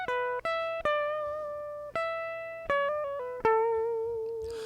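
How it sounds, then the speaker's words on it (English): A soloed electric guitar part, played through an MPC, picks out about seven clean, sustained single notes one after another, each ringing and fading before the next, with nothing else behind it. "Got guitar 3, that last guitar soloed. It sounds like this."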